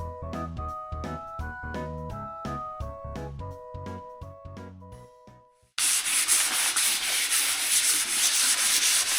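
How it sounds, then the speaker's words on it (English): A wooden desk top is sanded with 320-grit sandpaper after a short passage of plucked melodic music, then a loud, continuous rasping scrub fills the rest of the stretch. "Using some 320 grit sandpaper just to kind of smooth this out a little bit."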